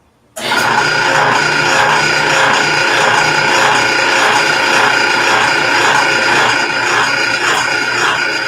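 Drill press fitted with a 3/8 inch Forstner bit boring into wood in a home workshop, a loud, steady rasping and rubbing grind that starts abruptly and runs continuously without pause, no talking.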